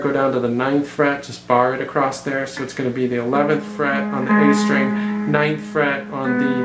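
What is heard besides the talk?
No distinct noise like a dog, phone or traffic.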